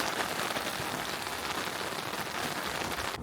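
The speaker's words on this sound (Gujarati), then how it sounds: "ચાલો તો આપણે અંદર આવી ગયા કેમ કે બહુ વરસાદ આવે છે, ત્યાં રહેવા જેવું નથી." Heavy rain pours steadily outdoors near a house, a dense, continuous hiss of drops striking surfaces that holds at the same loud level throughout, with no voices.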